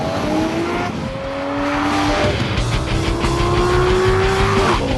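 Lamborghini Murcielago V12 with scissor doors, racing hard on track: a loud, sustained engine roar with rising and falling pitch sweeps as it shifts through gears, joined by tyre squeal, with no talk over it.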